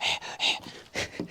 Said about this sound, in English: So excuse all the panting.